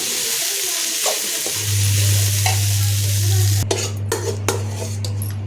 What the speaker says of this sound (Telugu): అటుకులు వేసుకొని మంచిగా వేడేదాకా కలుపుకోవాలి